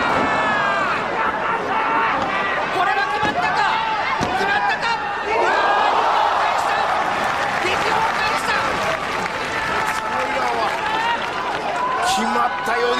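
A packed arena crowd roars and cheers throughout a pro wrestling match between Jun Akiyama and Takeshi Rikio, loud and continuous, with shouts rising and swelling under an excited commentator's voice and occasional thuds from the ring.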